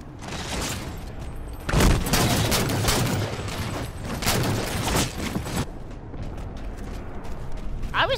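Rapid gunfire from a Halo multiplayer match, a sustained dense fusillade of fast shots with mechanical clatter that swells after a brief lull, continuing loud and close for several seconds before easing off.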